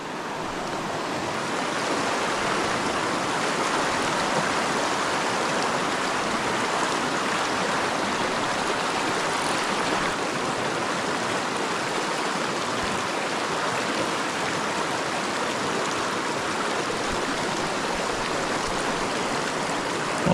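River water rushes steadily and fairly loudly in a mountain setting, a continuous broadband flow with no talk over it.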